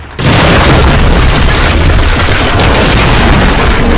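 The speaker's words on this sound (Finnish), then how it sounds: "Grenade out." A grenade explodes in Counter-Strike: Global Offensive, a sudden loud boom that hits at once and then rumbles on at full level for several seconds.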